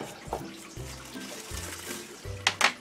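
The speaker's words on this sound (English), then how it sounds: "I'm going to add a little bit more water, just a little bit to cover those pickles" Water is poured from a tap into an open jar of pickles, a close, steady flow with faint sloshing, ending in a couple of sharp splashes.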